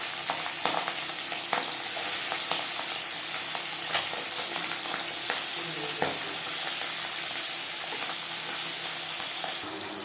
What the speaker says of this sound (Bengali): মাছ ভেজে নেওয়া কড়াইতে আবারও তেল দিয়েছি। ফোড়নে দিয়ে দিলাম পাঁচফোড়ন।